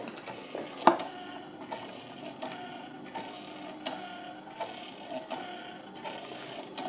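A small 12-volt mini washing machine runs with a faint motor whir and a steady series of soft ticking knocks as it churns, one sharper clunk early on.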